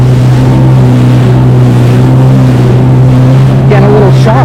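A 2025 Yamaha Waverunner VX Cruiser HO personal watercraft runs loud and steady below 5,000 RPM on Narragansett Bay, its engine droning close with a constant low hum and water rushing past.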